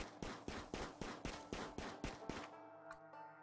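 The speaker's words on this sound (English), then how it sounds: "just go and shoot her to death" Gunfire from shooting a colonist in RimWorld: a rapid burst of about ten evenly spaced shots, sharp and close, ending abruptly with one lone click after a short pause.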